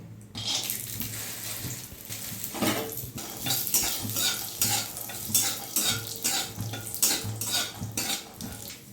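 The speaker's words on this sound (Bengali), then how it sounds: "আমি এই তেলেতেই বাদামগুলো ভেজে নেব।" Peanuts fry in hot mustard oil in a kadai, a constant loud sizzle broken by repeated scraping strokes of a spatula stirring them against the pan.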